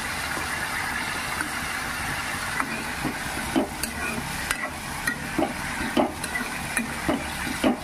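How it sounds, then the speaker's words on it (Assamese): Taro pieces and lentils fry in a pan with a steady sizzle, broken by repeated scraping stir strokes that come closer together toward the end, close and fairly loud with no talking. "দালিকেইটা আৰু মই যিকেইটুকুৰা থৈছিলোঁ কচু কেইটুকুৰা ইয়াতে দি মই ধুনীয়াকৈ ভাজিম।"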